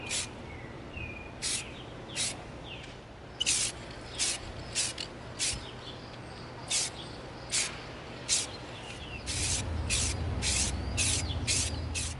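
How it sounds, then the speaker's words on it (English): Short hissing bursts of a spray can painting an EVA foam prop gun blue, repeated at irregular intervals, with faint birdsong in the background and a low rumble near the end. "We're gonna begin spraying our graffiti gun with our sail blue."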